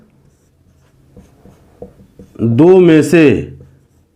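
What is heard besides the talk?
writing equations on a board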